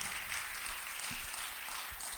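A church congregation claps in praise to God, a sustained wash of applause that sounds somewhat distant, with no clear voices over it.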